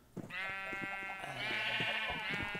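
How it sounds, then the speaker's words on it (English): Sheep bleating in Minecraft, a couple of drawn-out nasal bleats close by over faint game background sounds, with no talk. "Shut up, sheep."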